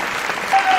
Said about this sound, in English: It's really an honor to receive such a wonderful applause.